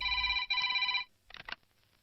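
A telephone rings in a Hindi movie scene: two loud, steady electronic ring bursts back to back, followed by a short clatter and then near silence.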